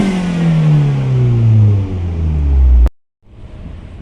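Fiat 500 Abarth engine droning loudly from inside the small turbocharged car, its pitch falling steadily as it winds down, then cutting off abruptly to a brief silence before low cabin rumble returns.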